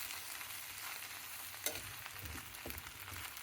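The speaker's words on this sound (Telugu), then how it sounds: "అలాగే పల్లీల పొడి వేసి" Sabudana khichdi with peanut powder being stirred in a hot pan, a continuous soft sizzle with scraping and light clinks of the spoon against the pan.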